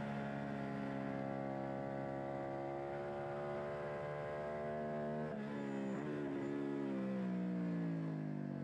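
A racing motorcycle engine at the Phillip Island 2 Hour endurance race holds a steady high whine, then revs drop and rise as the rider misses the shift into second gear, loud and continuous with no talking.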